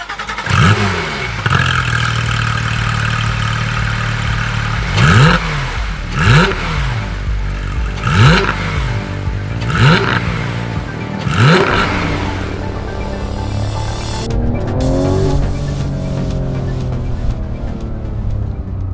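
A Porsche 911 GT3 (991.2) with PDK gearbox revs hard through several rising gear pulls, each upshift cutting in sharply, loud and close, before easing off toward the end.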